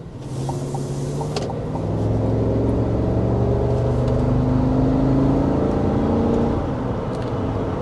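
A 2025 Chevy Tahoe High Country on 24-inch wheels pulls out onto a rough road, giving a steady, close rumble of engine and road noise that swells slightly partway through, with no talking.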